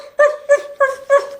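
A voice imitates a dog barking: four loud, evenly spaced barks, close and clear, with no other sound between them.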